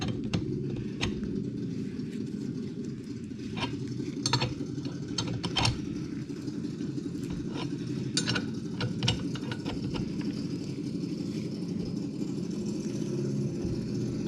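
A 17mm wrench turns a press to push the hub out of a pressed-on wheel bearing assembly on an AWD G35, sounding as intermittent ratcheting clicks and metallic ticks over a steady low mechanical hum, close and fairly quiet.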